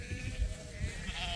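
A sheep in a flock gives a short, wavering bleat, nearby and moderately loud, against a low rumbling background.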